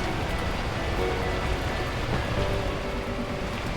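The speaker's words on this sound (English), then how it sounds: "At that moment, the heavens opened up, unleashing torrential rain." Torrential rain pours down in the video game Beacon Pines, a dense, steady hiss of falling water that stays loud and unbroken throughout, with no voices.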